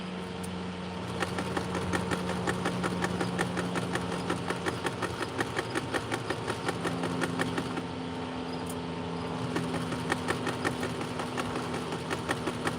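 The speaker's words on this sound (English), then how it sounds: "And start sewing here." A sewing machine stitches a denim jacket, running in a fast, even rhythmic chatter over a steady motor hum, pausing briefly midway before resuming at close range.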